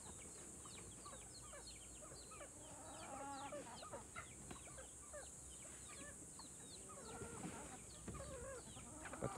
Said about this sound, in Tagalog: Gutom ng mga chicken ni Isha.